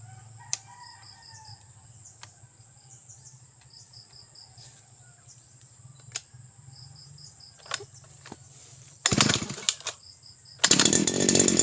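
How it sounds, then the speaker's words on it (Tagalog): Most of the garden is quiet, with a rooster crowing and insects in the background, until a grass cutter's motor bursts loudly to life twice near the end. "mag-grass cutter po tayo dito sa gilid"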